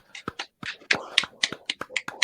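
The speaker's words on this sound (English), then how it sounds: "let's give you a round of applause" A few people clap in a small live session, sparse separate claps forming light, uneven applause that runs for a couple of seconds.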